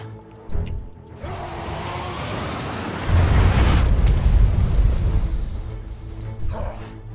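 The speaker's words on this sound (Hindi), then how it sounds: "कैसा लगा तुझे मेरा धमाका" Video game explosion in GTA 5: a sharp pop early on, then a heavy rumbling blast that swells midway and rolls on with deep booming debris before tapering off.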